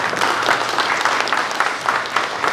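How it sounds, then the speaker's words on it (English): An audience at a school morning event applauds an attorney, giving a brief burst of mid-distance clapping from a modest crowd. "Let's give him a nice round of applause."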